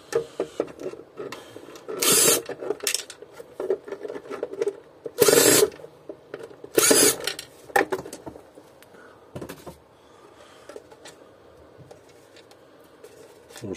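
Impact driver backing screws out of a Taurus Golf 1800 vacuum cleaner during disassembly, heard as three short, loud broadband bursts of hammering whir around two, five and seven seconds, separated by quieter handling and rubbing of plastic parts.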